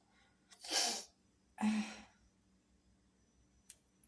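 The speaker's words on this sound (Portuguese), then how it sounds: "Ai, deixa eu espirrar, gente." Two breathy bursts close by: a sharp inhale-like gasp and then a sneeze, followed by quiet.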